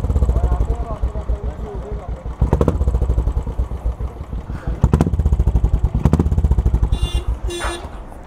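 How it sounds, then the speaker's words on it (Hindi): Royal Enfield 500 motorcycle with an aftermarket silencer idles with a steady, heavy thumping exhaust beat, close and loud, while someone talks over it throughout. "बट इसका साउंड सुना देता हूँ मैं. This is a little heavier क्योंकि 500 है ये."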